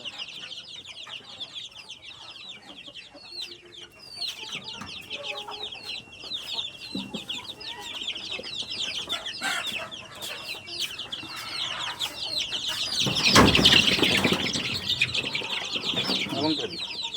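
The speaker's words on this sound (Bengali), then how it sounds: "দেশি মুরগি তো পানি এমনিতে কম খায়" Desi hens and their chicks make a steady stream of high clucks and peeps. A louder burst of flapping wings comes near the end.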